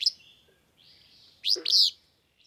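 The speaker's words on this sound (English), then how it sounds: "The willow flycatcher's song is two explosive syllables, fitzbew, with a strong accent on the first syllable." Willow flycatcher singing its explosive two-syllable fitzbew, accented on the first syllable. The call is clear and fairly close, follows a thin high note, and stands alone against a quiet background.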